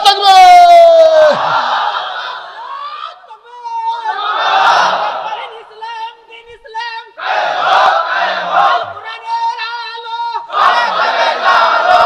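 A mass crowd at an Islamic sermon roars the takbir response in several loud bursts, each alternating with a preacher's amplified voice.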